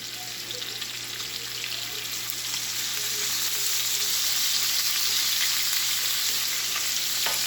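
Sausage and minced garlic sizzle steadily in a pan, a close, even hiss of frying that builds slightly and holds for several seconds with no voices.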